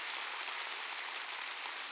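A church congregation at a Korean Wednesday worship service applauds in a short, steady patter of clapping that sounds faint and distant and has no voices over it.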